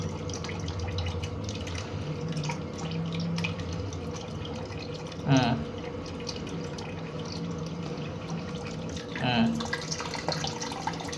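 Steady running water pours and trickles across a waterproof sticker, with a couple of brief louder splashes and handling noises mixed in.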